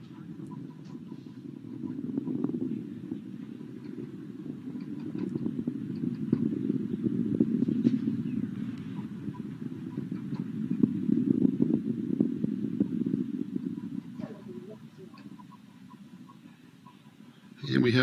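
Atlas V rocket engines and solid rocket boosters during the Starliner OFT-2 launch give a steady, low, distant rumble that swells and fades over many seconds, with occasional crackle and faint broadcast commentary beneath.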